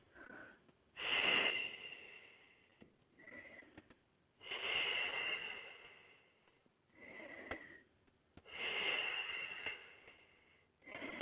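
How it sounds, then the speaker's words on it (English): Slow, deep breaths during a rest between Pilates sets, each a long airy inhale or exhale, close and soft with quiet pauses between, no talking. "Take a couple of breaths."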